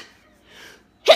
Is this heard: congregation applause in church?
no